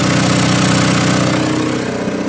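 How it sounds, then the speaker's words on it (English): An Onan DJB 6.0 diesel generator idles close by, a low droning hum with a regular mechanical throb and no voices. "I could actually hear the engine in the inside louder than the exhaust out here"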